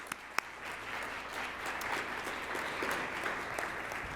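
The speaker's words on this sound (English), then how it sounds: "Let's give them a round of applause." Audience applause at a business forum luncheon for its sponsor, moderate steady clapping from a seated room with a few sharper nearby claps standing out, no speech over it.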